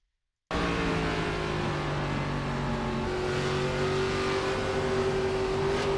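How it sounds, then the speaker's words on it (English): An ARCA race car engine heard on board at Iowa Speedway holds a loud, steady high-RPM drone with rising pitch, continuous and close for several seconds. "I want to hear engine RPM and all that good stuff."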